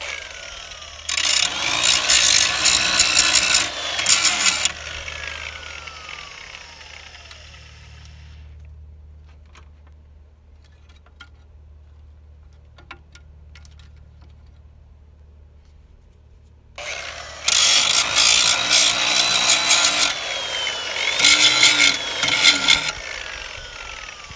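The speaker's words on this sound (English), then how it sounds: "gotta grind down these raised up spots right here where the motor's been moving" An angle grinder grinding down raised spots on a Kawasaki FX751V engine, in two loud harsh bursts of a few seconds each separated by a long quiet gap with a low hum.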